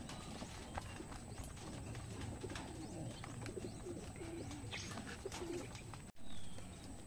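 Racing pigeons coo softly in a loft, low throaty calls repeating through steady outdoor background hiss, with occasional clicks and fluttering movement nearby.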